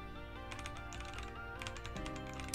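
Computer keyboard typing runs continuously as a steady patter of close, clicky keystrokes over a faint background hum, with no talk over it.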